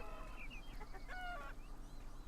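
Faint clucking and a short squawk from chickens in a video game, quiet and somewhat muffled over a steady background hum.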